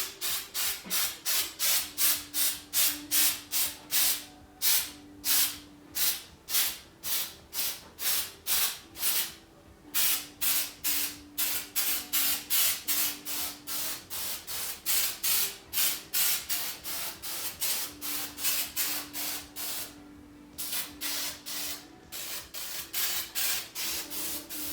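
Short hissing bursts from a spray can of flocking aimed at a Christmas tree, coming in a steady, rapid rhythm with brief pauses between squirts, close and fairly loud, with no voices.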